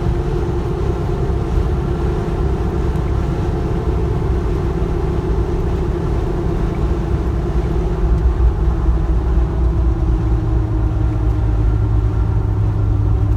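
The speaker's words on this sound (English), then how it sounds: "Hear a little bit of noise from the tires, but it's not bad." Tire roar and road rumble from a 1976 Jeep J10 four-wheel-drive straight-axle pickup on the highway make a steady, dense, continuous drone, with no talking.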